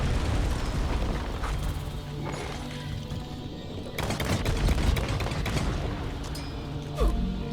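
Rapid gunfire and heavy blasts from the video game Deep Rock Galactic, dense and continuous with bursts of crashing impacts and a low rumbling bed throughout, no voices.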